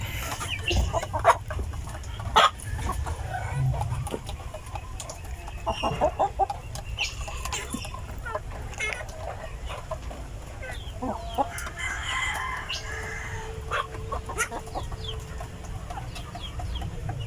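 Free-range heritage mix chickens clucking all through, with a rooster crowing among them and scattered bird calls near and far in an outdoor range setting.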